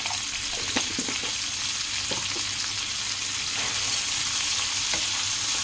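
Bitter gourd pieces with salt and a pinch of turmeric sizzle steadily in a pan as they are stirred, a constant close frying hiss with occasional soft spatula scrapes.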